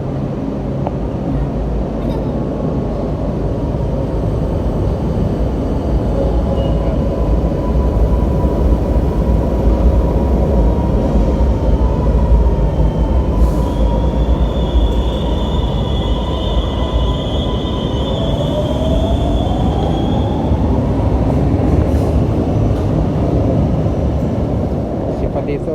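A train pulls into a station in Milan under a steady, loud rumble, with a drawn-out high squeal partway through as it slows. Faint voices sit in the background.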